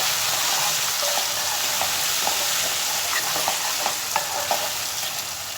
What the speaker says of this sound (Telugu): ఇది కొంచెం సేపు ఆయిల్లో ఇలా వేయనివ్వాలి